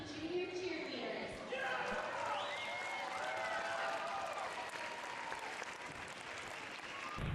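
Sustained crowd applause at a high school basketball game's halftime, steady and loud throughout as junior cheerleaders are welcomed onto the court, with cheering voices mixed in.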